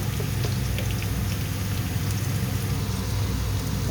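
Sliced onions sautéing in a pan with a pinch of salt give a steady, dense hiss and crackle that runs without a break for a few seconds.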